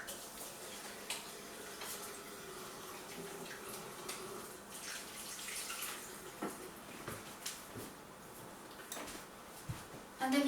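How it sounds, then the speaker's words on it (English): Hands being washed under a running kitchen tap after handling raw eggs, a faint steady splash with small knocks and clatter, quiet and close. "I'm just going to quickly go and wash my hands to get them clean"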